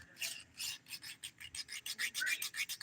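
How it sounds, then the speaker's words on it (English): A nail file rasps under the fingernails in quick, even back-and-forth strokes, about a dozen close, soft scratches in a steady rhythm, with no speech. "I always file underneath my nails just to make sure those are smooth"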